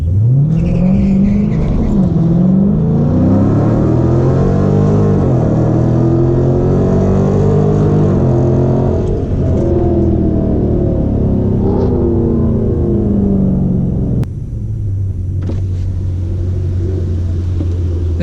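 Two Dodge Challengers, one an SRT 392, rumble loudly while staging for a drag race, engines revving and rising and falling in pitch before one cuts off abruptly, leaving a lower steady idle.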